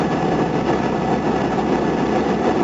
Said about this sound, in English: I'm not touching the brakes at all, I'm just using the engine brake.